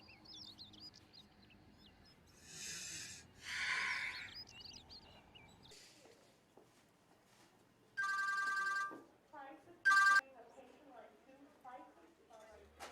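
Telephone ringback tones chirping through a phone earpiece in a domestic drama scene, two short bursts of repeated electronic pulses after muffled movement, followed by faint chirpy sounds.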